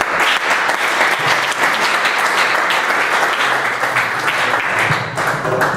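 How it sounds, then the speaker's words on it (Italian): A large audience bursts into a big, sustained round of applause at a memorial gathering, dense clapping that stays loud and steady throughout with no one speaking over it. "facciamo un grande applauso."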